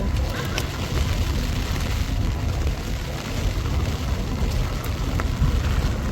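Heavy rain pours steadily over fishing boats at Thoothukudi, a dense, continuous wash of noise close by with a low rumble underneath, unbroken throughout.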